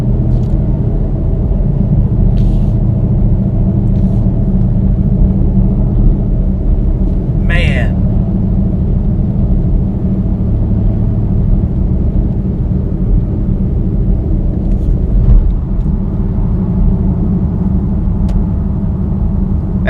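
A Dodge Challenger Hellcat accelerates hard, heard from inside as a loud, continuous low engine roar and rumble that holds steady for about twenty seconds, with a few brief faint sounds over it.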